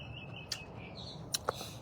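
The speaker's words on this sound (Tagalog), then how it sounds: "Nag-iingay ang mga ibon sa paligid." Birds chirp and call outdoors in a few brief, faint, scattered notes over quiet ambient background.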